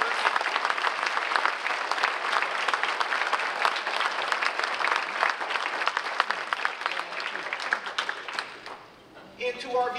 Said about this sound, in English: let's give this gentleman and any other World War II veterans among us a great round of applause